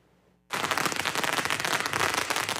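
Firecrackers go off at a temple Lantern Festival celebration. After a brief quiet moment, a sudden, dense barrage of rapid crackling bursts erupts and keeps going loudly without a break.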